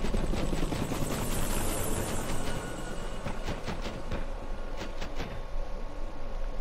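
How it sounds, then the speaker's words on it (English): Helicopters in Call of Duty: Modern Warfare Remastered give off a loud continuous rotor roar with pulsing blade chop, and sharp bursts of gunfire break through it partway. "And now they're busy on some helicopters."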